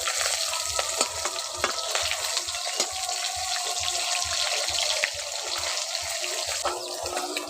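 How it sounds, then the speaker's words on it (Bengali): Falai fish fry in oil in a pan, a continuous close sizzle with crisp crackles and light scraping from turning the pieces, steady throughout and free of speech. "উলট পালট করে মাছগুলোকে ভালো করে ভেজে, এখন মাছের এক পাশ ভাজা হয়ে গেছে"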